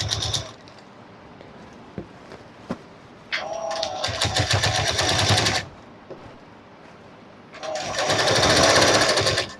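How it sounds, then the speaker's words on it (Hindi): A sewing machine stitches a bridal lehenga in two long, close, buzzing runs of rapid stitching, separated by quieter moments with a few small clicks. "तो मशीन को आपको उन पर ध्यान से चलाना है"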